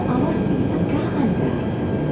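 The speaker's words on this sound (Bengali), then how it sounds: "ও ট্রেন থামছে।" A train in Malaysia slowing toward a stop: a steady low rumble and rolling noise fills the short stretch, loud and even, with muffled voices mixed underneath.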